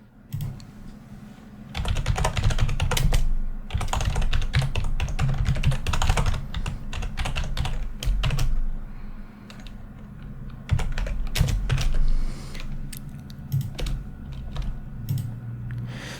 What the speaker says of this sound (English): So I'm going to start coding, and typing noises will start.